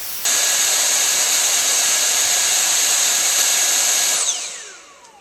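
A Dyson V8 cordless stick vacuum with an older battery whines at its max power setting, a loud steady high-pitched rush that holds for about four seconds before the motor cuts and spins down.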